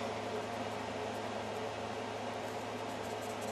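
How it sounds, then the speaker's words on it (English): A new air conditioner runs loudly, a steady broadband hiss and hum that holds constant at a close, unchanging level with no pauses. "I'm sorry if the air conditioning is loud."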